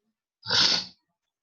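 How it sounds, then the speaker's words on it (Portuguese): A single sneeze from a teacher during an online Portuguese lesson, heard as a short, sharp, breathy burst that rises and fades within half a second, with silence on either side. "quero espirrar já"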